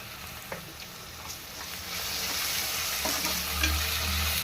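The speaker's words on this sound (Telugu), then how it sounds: "ఇప్పుడు ఆనియన్స్ బాగా వేగే కదండి, ఇలా గోల్డ్ కలర్ లాగా వచ్చే వరకు బాగా వేయించుకోవాలి" Onions frying in a pan with turmeric and curry leaves while a goat head curry is cooked, a continuous close sizzle that swells louder in the second half.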